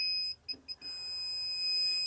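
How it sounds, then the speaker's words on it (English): A circuit breaker finder held at the correct breaker gives a few short high-pitched beeps close by, with a steady high electronic tone running underneath. "And it is flashing and beeping."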